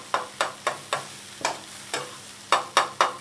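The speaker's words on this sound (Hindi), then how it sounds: "इससे अब इसको टमाटर के साथ मिक्स करेंगे" A utensil scrapes and stirs an egg mixture with tomatoes in a pan, giving about ten sharp, evenly spaced strokes close up, with faint sizzling beneath.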